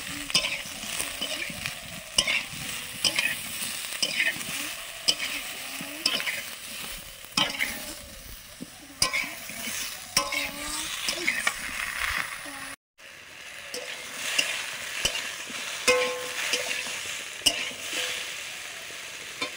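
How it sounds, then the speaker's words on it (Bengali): Potatoes and ridge gourd sizzle in a pan while being stirred, with a steady close frying hiss broken by repeated scraping stirs and a brief dropout partway through. "আলু আর ঝিঙে ভেজে নামিয়ে নিচ্ছি"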